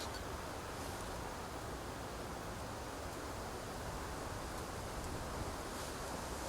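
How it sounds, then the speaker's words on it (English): Constant low rumbling buffet of wind against a microphone in a forest, a dense unbroken roar that holds steady at moderate loudness without any voices. "Now we've got the wind problem, haven't we?"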